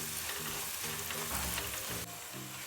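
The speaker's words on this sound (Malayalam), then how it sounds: "ഈ സവാള നന്നായിട്ട് വഴറ്റിയെടുക്കണം." Sliced onions for a chicken chukka curry sautéing in a hot pan, a steady close sizzle and crackle with light stirring scrapes, no talk.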